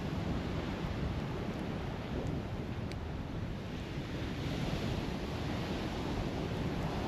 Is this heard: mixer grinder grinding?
no